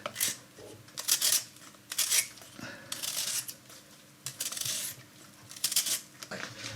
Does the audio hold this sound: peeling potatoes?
yes